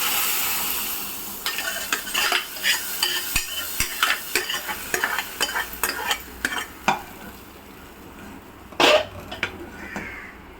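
Ghee-fried corn vadam being stirred into boiling milk in a pot, giving a run of close, irregular scraping and clinking strokes for several seconds, then a louder scrape near the end.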